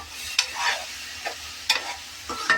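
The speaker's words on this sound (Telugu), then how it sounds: "అందులో మనం దాన్ని ఫ్రై చేస్తున్నాము" Tomato juice frying with onion and ginger paste for a crab curry, with soft sizzling and a few sharp spoon-stirring scrapes against the pan, near and moderately quiet, no voices.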